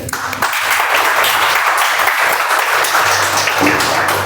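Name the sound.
audience applause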